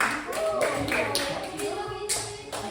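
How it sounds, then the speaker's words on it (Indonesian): A group of people in a classroom claps hands in a quick run of irregular claps, close and fairly loud, with voices mixed in. "Oke, tepuk tangan."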